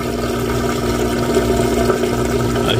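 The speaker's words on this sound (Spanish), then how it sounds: "Bueno, hoy ya está tirando el agua." A new washing machine drains its water, a steady rushing flow with a low pump hum, continuous and fairly loud throughout.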